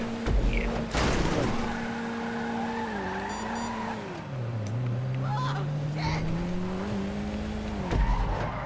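A car drifts in a video game, its engine droning and rising and falling in pitch under a long tire squeal, with a few sharp impacts and some faint talk in the background.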